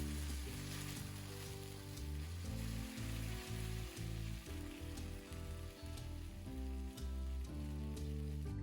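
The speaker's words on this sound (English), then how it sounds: "Add 1 can of black beans and cook them for about 3 minutes until they are heated through." Black beans sizzle in a pan with onion and jalapeno, a continuous close crackling fry under a loud, steady backing of rhythmic music with no talking.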